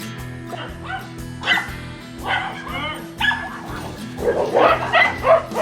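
Several dogs bark and yip from behind a garden fence, close by, in bursts that grow busier toward the end, with a few whimpers mixed in over a low steady background hum.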